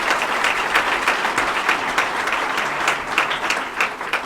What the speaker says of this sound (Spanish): Ahí está, la foto oficial y la segunda ronda de aplausos.